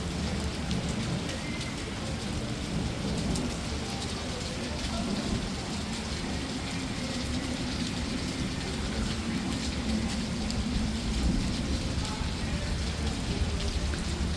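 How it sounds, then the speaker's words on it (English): A heavy thunderstorm over Memphis brings dense, unbroken rain pounding on surfaces, a loud, constant roar with a low rumbling underneath for the whole stretch. "I do actually quite like a thunderstorm."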